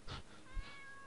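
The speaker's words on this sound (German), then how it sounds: "die Katze miaut" A cat meows twice in the video game Force (demo), two short close cries a moment apart, the second trailing into a thin sustained tone, with no talk over them.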